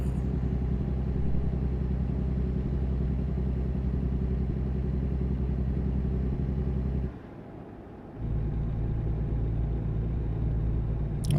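Constant low rumble of a truck engine while driving, with a steady droning hum, briefly dropping for about a second before resuming at the same level.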